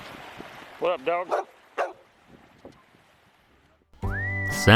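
Dog in San Evaristo, a remote Baja fishing town, gives a quick run of close, sharp yips and barks. A quieter stretch follows, then a loud sustained whistle-like tone at the end.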